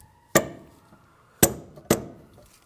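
Three sharp, close metallic taps, spaced unevenly, drive a side engine mount down into its seat on a 2003-2011 Honda Element, with quiet pauses between strikes.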